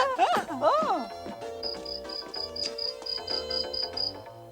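A grasshopper in a cartoon chirps in a steady run of evenly spaced, high, bright pulses. A short animated voice comes first, and then the chirping carries on alone.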